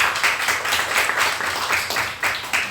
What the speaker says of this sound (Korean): 박수로 서로 환영하고 격려할까요?